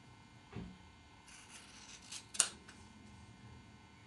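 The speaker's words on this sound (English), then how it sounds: "I'm going to just cut along the edges of the freezer paper" Scissors cut fabric along the edges of freezer paper while making mini mosaic quilt tiles, giving a couple of soft, brief snips in a quiet room with no talking.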